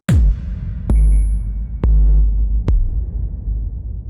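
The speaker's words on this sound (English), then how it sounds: "Let's say we want a kick and we want it to be electro" A booming electro kick drum sample from the Rytmik 2 beat-making app plays four times at slow, uneven intervals, each deep thump followed by a long reverberant tail; no one speaks.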